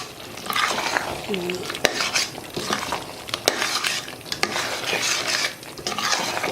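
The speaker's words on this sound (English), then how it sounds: "the stew is cooking here. So I'm going to add my corn flour here, 4 tablespoons of corn flour." Broccoli and butter bean stew with corn flour being stirred in a pot: continuous close scraping and stirring with clinks of utensil against the pot and a soft bubbling sizzle beneath.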